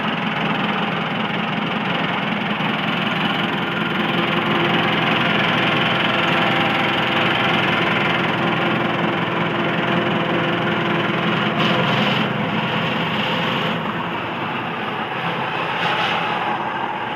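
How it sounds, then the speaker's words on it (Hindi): A tractor engine runs steadily outdoors near flowing water, with a continuous low idling rumble and mild knocking vibration that holds at an even level throughout. "ऐसे से ट्रैक्टर है हमारा।"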